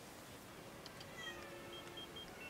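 Faint, distant cat meows, a few short high cries rising over a dull, steady room noise, with no talking.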